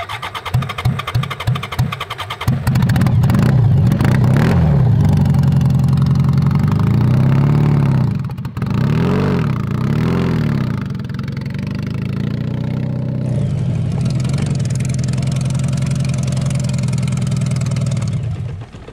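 A mini trophy kart's BMW 1000cc engine cranks with a few stuttering pulses, then catches and revs loudly in repeated rising and falling bursts before settling to an uneven idle.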